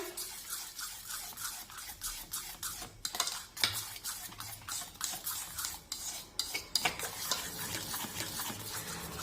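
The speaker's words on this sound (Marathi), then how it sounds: "चिमूडभर मीठ टाकूया कारण जरी गोडाचा पदार्थ असला तरी त्यामध्ये थोडंसं का होईना मीठ टाकायचंच त्यामुळे सुद्धा त्या पदार्थाला खूप छान चव येते मिक्स करून घेऊया" Banana, jaggery and salt being mixed in a bowl, giving a steady run of scraping and clinking from a utensil against the bowl, with sharper knocks now and then. The sound stays close and goes on throughout without any talk.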